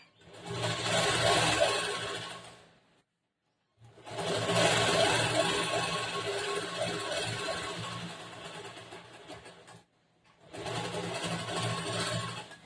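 A sewing machine stitches a blouse lining to the main cloth in three continuous runs of steady whirring, broken by two short pauses, close and fairly quiet, with no voices.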